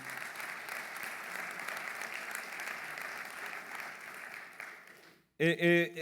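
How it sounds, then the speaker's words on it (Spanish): A church congregation applauds in a long, steady wash of clapping that fills the room for about five seconds before cutting off, and then a voice speaks. "de que usted le dé un aplauso al Señor"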